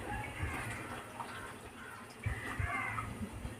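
Water pours into a pot of rice cooking in a home kitchen: a soft, steady splashing with a few faint low knocks, all fairly quiet.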